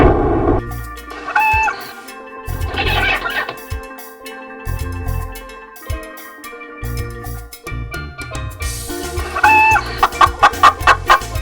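A cartoon chicken clucks in loud, bursty squawks and cackles, some in rapid runs, set against background music with no talk over it.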